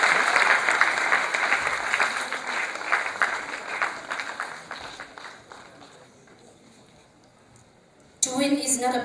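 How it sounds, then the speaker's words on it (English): Audience applause and clapping for participants of an inter-school PowerPoint presentation competition, dense and loud at first, then thinning and fading to scattered claps, before a voice abruptly cuts in near the end. "They really deserve a big round of applause for their presentation"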